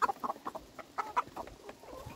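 Hens in a backyard coop clucking, a series of short, close, irregular clucks and soft calls in quick succession, fairly quiet, with no talking.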